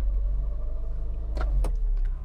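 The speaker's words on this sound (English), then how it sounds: "once all the cars go past." Cars passing on a road, heard from inside a Metro car with the sunroof open: steady low traffic rumble with two brief whooshes close by as vehicles go past, no talking.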